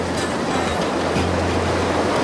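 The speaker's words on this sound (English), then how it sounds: "You can really feel the power of water when you're held in its grip" White water river rapids rush in North Queensland with a loud, dense and unbroken roar of churning water, heard close up with no voices.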